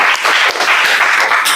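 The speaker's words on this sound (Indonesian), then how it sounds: "Oke, good. Tepuk tangan buat Gabriela." A short burst of dense clapping fills an eleventh-grade economics classroom as students applaud a classmate, close and steady for just over a second.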